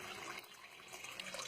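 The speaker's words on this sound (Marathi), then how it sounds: "पुन्हा एकदा ते पाणी घालतायत बघा." Water is poured steadily during a Krishna Janmashtami ritual, a continuous faint splashing and trickling stream with no voices.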